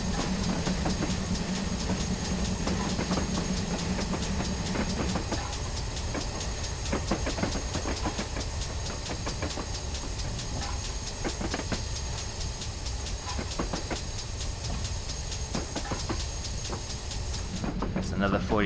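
A GWR Hall 4900 class steam locomotive in Train Simulator on the Falmouth Branch Line, building speed with a steady, loud rumble and faint rhythmic clicking that carry on without a break.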